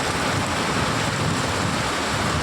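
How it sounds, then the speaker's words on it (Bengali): Steady rain comes down outdoors as one unbroken wash of hiss and patter, loud and close, with no gaps or voices over it. "শেষ পর্যন্ত বৃষ্টি এসে গেল, বৃষ্টি এসে গেল আমাদের রাজ্যে।"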